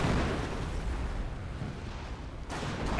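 Artillery barrage in the World War II strategy game Company of Heroes, a continuous rumbling roar of explosions and bursts, loud and dense with a sharp fresh blast near the end.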